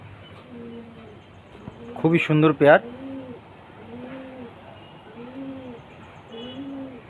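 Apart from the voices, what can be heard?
pair of red-flower pigeons cooing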